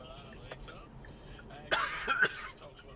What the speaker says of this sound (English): I'm coughing my guts up.